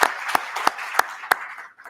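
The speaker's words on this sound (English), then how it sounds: "an applause and a sign of recognition to them" A few slow, evenly spaced claps, about five, over a soft background hum at an IEEE Services 2022 awards ceremony, sounding like sparse applause heard through a remote meeting link, fading at the end.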